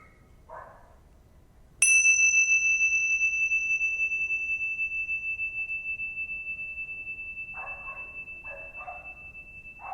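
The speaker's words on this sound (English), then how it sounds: "if you listen to the sound of the bell" A meditation bell is struck once, giving a bright metallic ring that hangs and slowly fades over several seconds, with brief speech just before the strike and again near the end.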